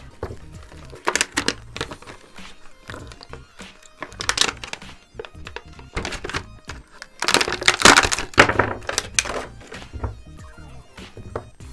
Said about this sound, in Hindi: जैसे करेंगे हम ओपन यहाँ से और निकालेंगे अपने सुपर हीरो को।